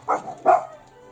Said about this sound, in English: the dog's just barked